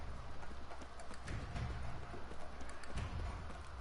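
Horses gallop in a video game, a muffled, rapid clip-clop of hooves under a wash of ambient noise, fairly faint and continuous.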